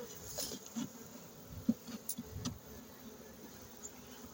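Honey bees lingering near a hive buzz faintly, with brief passes of wing drone rising and fading against a quiet outdoor background.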